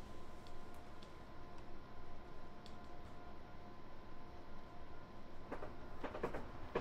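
A semi-express passenger train between London and Brighton running along the track, giving a steady interior rumble with faint tonal hum and occasional clicks from the rails.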